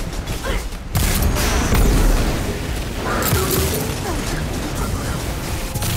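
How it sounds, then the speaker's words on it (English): A Hawthorne's field shotgun fires on full auto in the game Destiny 2, letting out a loud run of heavy, booming blasts that roll together with mechanical clatter, close up and alone. "This is a Hawthorne's field shotgun, which fires in full auto if I want to."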